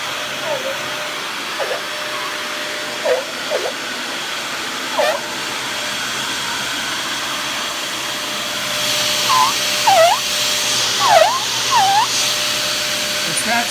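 A Dyson DC41 vacuum cleaner runs with a steady roar, while its plastic body flexes and gives off repeated short squeaks and creaks that grow more frequent toward the end.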